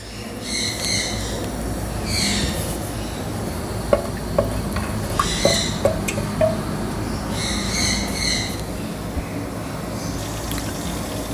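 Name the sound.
crushed garlic frying in oil in a clay pot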